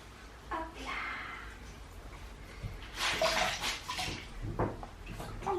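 Water poured over a one-year-old baby's hair during a bath, splashing and trickling in short bursts close by, with an adult speaking softly between pours.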